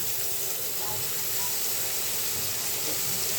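Water spinach greens go into a hot pan of fried spice paste for a Bengali kalmi shaak and shrimp stir-fry, giving a steady, close, fairly loud broadband hiss and sizzle that holds evenly throughout.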